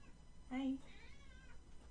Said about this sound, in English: I think that's my cat wanting in.